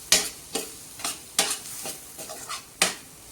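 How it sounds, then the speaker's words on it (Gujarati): Spices, tomatoes, garlic and onion roast in a pan over medium-low gas. A soft steady sizzle runs beneath close, sharp scrapes of a spoon stirring at an uneven rhythm, about seven strokes. "આવી રીતે જ આપણા બધા મસાલા બરાબર શેકી લેવાના છે"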